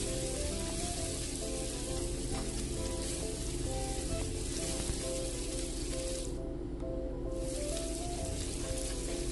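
Onions and tomatoes fry in a pan in a home kitchen, a loud, steady sizzle with crackling spatter that runs unbroken, briefly thinning for a moment near the end.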